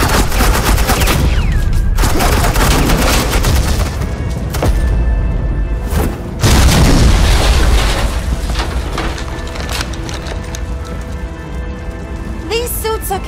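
Suppressing gunfire from the video game Batman: The Enemy Within rattles in loud sustained bursts, heavy rapid shots and booms running through nearly the whole stretch with brief gaps.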